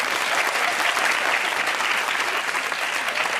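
Dense, steady applause from a studio audience on a comedy talk show, loud and continuous throughout with no pause.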